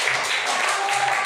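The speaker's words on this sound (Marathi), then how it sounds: "टाळ्या वाजवा" Children in a classroom clap together in a steady, dense patter of many small hands that holds close and fairly loud for a second or so, with no talking over it.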